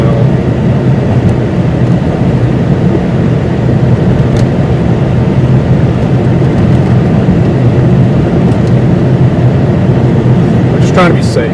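Continuous road and engine rumble from inside a moving car on a road trip, loud and steady throughout with no breaks.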